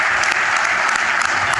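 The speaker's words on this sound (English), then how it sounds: "All right, ladies and gentlemen, round of applause for" An audience claps after a startup elevator pitch at a tech startup event, a steady, close burst of dense applause filling the short moment without pause.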